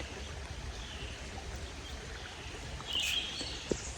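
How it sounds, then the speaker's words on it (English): Gentle water trickling and spilling in a small outdoor stream, a steady soft burble heard from nearby, with a faint brief bird call near the end and no talking. "If you just listen to the water trickling,"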